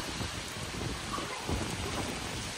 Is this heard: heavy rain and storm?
yes